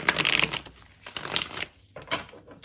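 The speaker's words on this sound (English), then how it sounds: "we'll do one final shuffle here." A tarot deck is riffled and shuffled in several quick bursts of crisp fluttering, close by, with brief pauses between them.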